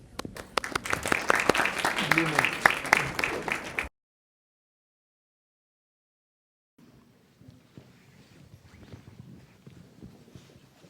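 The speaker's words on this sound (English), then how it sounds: "Let's welcome them with a round of applause." Audience applause at an Eshwaramma Day celebration welcoming quiz hosts, a loud burst of many hands clapping that cuts off abruptly into silence, followed by faint room noise and soft movement.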